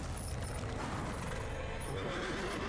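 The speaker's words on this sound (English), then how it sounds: "There's a horse." A horse whinnies in the video game Lords of the Fallen, amid a dense game soundscape with steady background noise, the neigh mid-level and somewhat buried in the mix.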